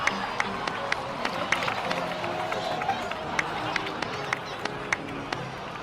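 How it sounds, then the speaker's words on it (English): A crowd of characters in Genshin Impact claps and cheers in a steady patter of applause, moderately loud, with scattered sharp claps and voices talking over it. "please give another round of applause for them"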